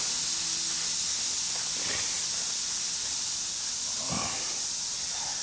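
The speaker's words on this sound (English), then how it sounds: "get yourself one of these whiz wheels, and we'll just clean this up" A whiz wheel scrubs the transmission housing of a dump truck's Allison automatic transmission, giving a continuous high abrasive hiss, close and steady, with a few faint low knocks and no speech.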